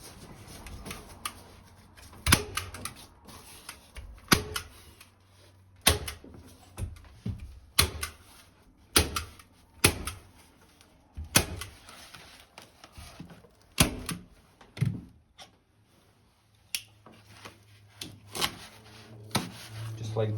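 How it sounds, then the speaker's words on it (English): A regular staple gun drives staples through material into the wall beams while a Delta Classic 500 stand-up shower is installed. Sharp, close snaps come in irregular bursts with brief handling noises between them. "Regular staple gun."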